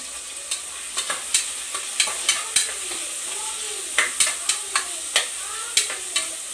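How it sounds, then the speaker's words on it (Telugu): Onions for chicken biryani frying in a pan with a steady sizzle, punctuated by a dozen or so sharp, irregular scrapes and knocks of a spoon stirring them, close and alone. "ఆనియన్స్ ఫ్రై అయిపోయింది"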